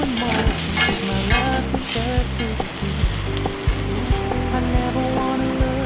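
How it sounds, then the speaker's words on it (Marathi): Potato pieces frying in hot oil as they get a light coating, a loud continuous sizzle close by with repeated stirring scrapes and knocks, and some faint tonal sounds in the background. "आणि आता बटाटे पण तेलामध्ये थोडे चिमटून घ्यायचे."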